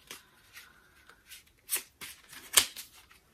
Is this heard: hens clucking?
no